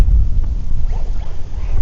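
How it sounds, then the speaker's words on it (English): Wind buffets a microphone outdoors at a radio-controlled buggy session on hilly ground, a loud, continuous low rumble with gusting swells throughout and no voices. "ooh, the wind, man. You can tell it's windy"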